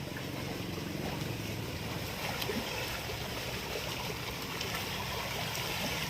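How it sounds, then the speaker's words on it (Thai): Steady rushing water pours from a pipe without a break, a dense, even splash that stays loud and close the whole time. "เสียงท้องน้ำไหล"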